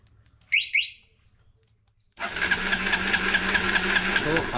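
A motorbike engine is started by remote: two short chirping beeps from the remote, a pause of near silence, then the engine catches and settles into a loud, steady idle nearby.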